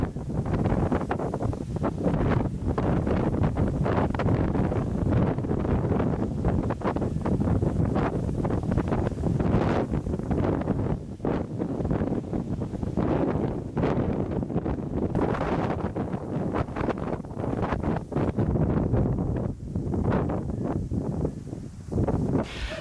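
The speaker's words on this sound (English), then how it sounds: "today is like really windy. It's blowing a hoolie out here, and there's just too much wind." Strong wind buffeting the microphone nonstop, a loud rumbling roar with gusty low thumps and no voices.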